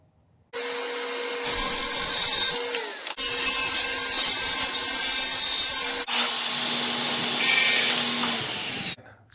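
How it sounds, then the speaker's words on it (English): Wood being cut with a power tool while building a wooden toolbox, a loud steady whining run broken into three long passes with brief pauses between them, no talking. "Now it's time to cut the wood."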